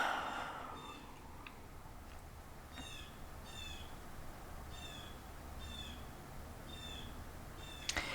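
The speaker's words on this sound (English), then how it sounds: "can you hear that bird outside?" A bird calls outside with faint, high chirps repeated at a steady pace over a constant indoor hum, with a sharper sound near the end.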